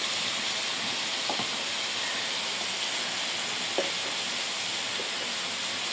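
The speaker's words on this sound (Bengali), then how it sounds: "পেঁয়াজটা একটু ভালোভাবে তেলের সাথে কষায় নিতে হবে" Onions fry in oil in a pan while cooking Bengali steamed hilsa, a steady broadband hiss with a few faint clicks.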